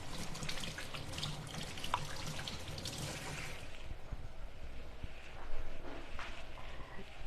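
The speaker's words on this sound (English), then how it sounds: "now I need to wash my hands because I've touched this meat" A kitchen tap runs while hands are washed after handling raw pork, a steady close splashing stream into the sink that fades partway through, followed by quieter water sounds and a brief louder splash.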